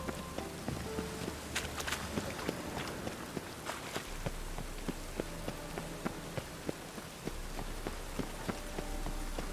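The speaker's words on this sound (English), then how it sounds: "Let it rain." Steady rain patters on surfaces in The Witcher 3: Wild Hunt, a constant hiss with scattered droplet ticks and occasional footsteps, fairly quiet and continuous.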